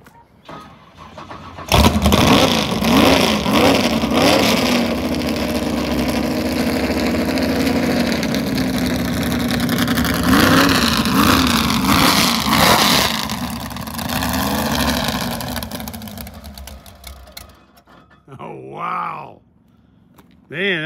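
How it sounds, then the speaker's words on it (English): A loud boat engine cranks, catches and roars to life, revving up and down repeatedly in rough, throaty surges, with voices talking over it. "Robert's firing up the boat."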